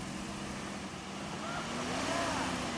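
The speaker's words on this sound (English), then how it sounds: "Now watch my 1985 Toyota walk right up the same obstacle with front" A 1985 Toyota 4x4 fitted with front and rear air lockers crawls up a rocky obstacle, its engine giving a steady low drone that swells slightly toward the end, with faint whining tones riding over the rumble.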